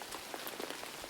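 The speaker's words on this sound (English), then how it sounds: "He could hear the rain falling outside." Steady rain falls outside, a soft continuous hiss of drops pattering on a surface, fairly close and even throughout, with no voices.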